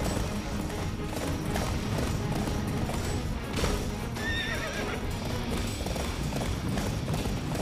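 Horse hooves galloping in the Attack on Titan video game, a steady run of clip-clop beats with whinnies, loud and continuous against a busy game soundscape, no talking.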